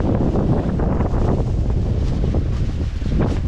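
Strong gusting wind blasts across the microphone on a small sailboat at sea, a loud, continuous roar mixed with rushing water and waves, with no voices.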